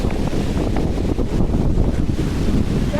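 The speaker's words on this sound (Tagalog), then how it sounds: "Lumakas ang alon." Loud, constant rush of strengthening surf and wind on a beach on Calaguas Island, Philippines, with waves churning and heavy wind noise battering the microphone throughout.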